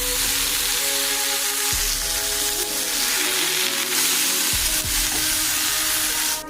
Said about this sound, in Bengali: মাকে দেখেছি মা এভাবেই কলা ভাজা করে